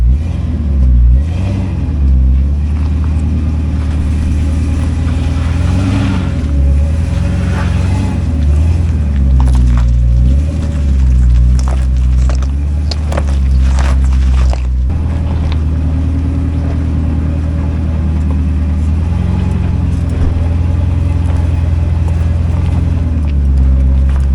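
A two-wheel-drive tow truck works its way over the Rubicon rock-crawling trail, its engine droning loudly and continuously with repeated revving surges and a deep rumble.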